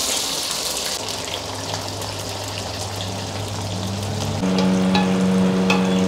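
Onions and garam masala sizzle and fry in a pan for Jodhpuri red mutton, a steady crackling hiss with a brief stir, turning louder and brighter near the end.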